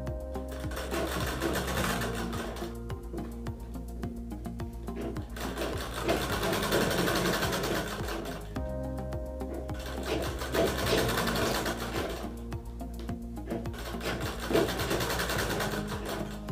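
A sewing machine runs steadily, close and fairly quiet, stitching blouse fabric for a bias-strip neckline design. Its rapid needle rhythm continues with brief slowdowns, and there is no talking over it.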